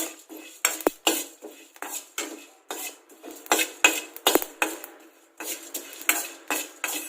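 Rice being slowly stirred and roasted in a pan over a low flame. A spoon scrapes and clinks against the metal pan in steady repeated strokes, close and fairly crisp, with no talk.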